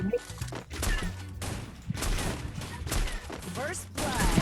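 Rapid gunshots and bursts of automatic fire ring out in a ranked shooting video game, coming in repeated volleys with short gaps while players talk over the action.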